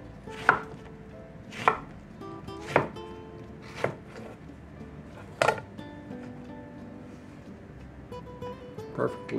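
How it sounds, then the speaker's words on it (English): A knife slices lengthways through fruit on a cutting board in a home kitchen while sweet tea is made, landing as sharp, evenly spaced chops about once a second, close and distinct over a quiet background. "I find it easier just to slice it lengthways like this"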